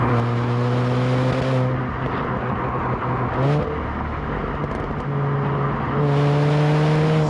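A supercharged MINI Cooper S (R53) engine with a 17% reduced pulley revs up and settles with a steady harmonic drone, rising in pitch, dropping back, then climbing again, close and loud without voices.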